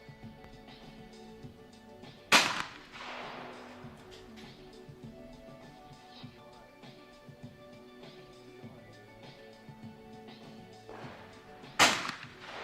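Shotgun shots from the Italian team in a men's trap shooting team final: two loud, sharp blasts about nine seconds apart, each with a short echoing tail, over a quiet outdoor background.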